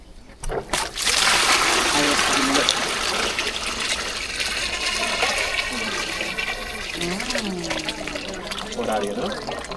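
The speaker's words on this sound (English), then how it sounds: "The water and the leaves are spinning this way, clockwise, right?" Water drains and swirls down out of a basin with leaves in it in Ecuador, a continuous loud rushing, gurgling flow close by, with people talking over it.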